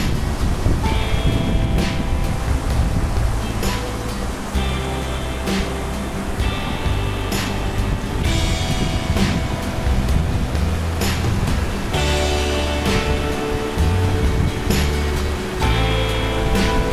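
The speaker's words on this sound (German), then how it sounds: "So, die Wasserkunst, also dieses Wasserrad, treibt hier eine Pleuelstange an." Flowing water rushes loudly and steadily at a historic water wheel that drives a connecting rod, with faint rhythmic knocks and creaks from the machinery underneath.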